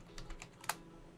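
A handful of quick, soft keystrokes on a computer keyboard, ending with one sharper, louder key press, with no voices.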